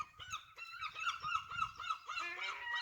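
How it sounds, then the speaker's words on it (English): Seagulls call in a garden where hens peck about, a run of loud, close, honking cries repeated in quick succession with no talk. "And the seagulls."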